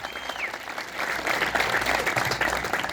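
A church congregation applauds loudly, a dense, building wave of clapping that swells toward the end, with some voices underneath.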